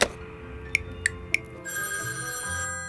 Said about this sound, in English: Let's call him up on the orca phone